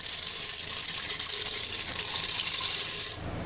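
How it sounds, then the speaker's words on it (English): Water poured from a cup into an electric Farberware pressure cooker, a steady close splashing pour lasting about three seconds before cutting off, no voices. "I get in a half a cup of water here, roughly"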